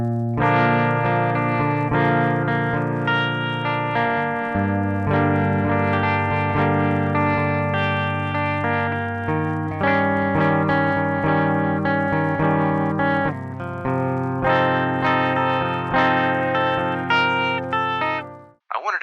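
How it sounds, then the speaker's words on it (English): Les Paul-style Ibanez Artcore electric guitar played through a black Twin Reverb amp emulation with reverb and subtle vinyl emulation, sustained chords and melodic notes ringing steadily throughout, loud and close with no talking. "I played this on my Les Paul style Ibanez Arcore, through a black twin reverb amp emulation in my Hotone Ampero"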